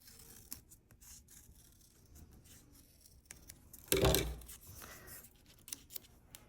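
Scissors snipping through folded paper for a craft, a series of soft crisp cuts with one louder, sharper crunch near the middle, close and alone without talk.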